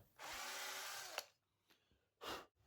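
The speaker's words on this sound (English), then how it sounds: "To complete the runners, I go ahead and drill slightly oversized holes in them." A power drill whines steadily for about a second drilling holes in wood, stops with a click, then a second shorter burst of drilling follows.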